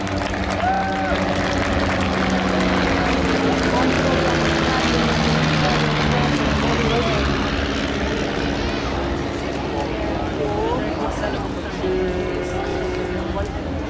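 A De Havilland Chipmunk or Scottish Aviation Bulldog propeller trainer at an airshow gives a loud, steady engine drone that stays strong throughout, with a commentator talking over it.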